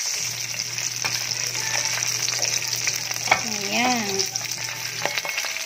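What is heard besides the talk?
sautéing adobo sauce for milkfish (bangus) in pan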